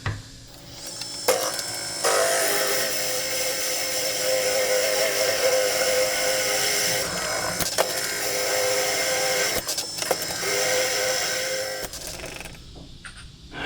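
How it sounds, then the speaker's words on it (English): A close, steady mechanical whirring and rough grinding of a drill hollowing out a goblet runs for several seconds with brief pauses and small knocks, no voices present. "So I'll just set up here and just drill a hole out and finish the inside of this."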